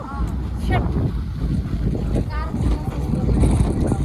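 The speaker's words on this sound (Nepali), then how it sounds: "अहिले यस्तो हावा चलिरहेको" Outdoors in London, gusty wind buffets the microphone with a low, rumbling roar while people chat nearby.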